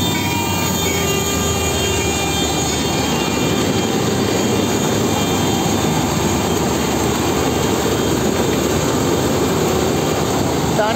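A Kartar combine harvester engine runs loud and steady while cutting a crop, a continuous droning roar with machinery whine and no breaks.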